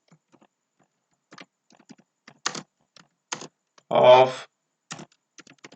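Typing on a computer keyboard in short bursts of clicking keystrokes, with a brief spoken word partway through.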